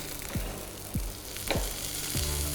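A golden-brown omelette sizzles steadily in a frying pan with a soft, continuous crackle, broken by several brief scraping or flipping movements, quiet and close with no talking.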